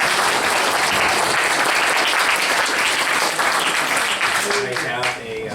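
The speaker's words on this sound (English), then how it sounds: "give a round of applause for our guest speakers" Loud, dense applause fills a community meeting in San Jose for the guest speakers, with voices mixed into the clapping and a tail of speech emerging as it begins to die down.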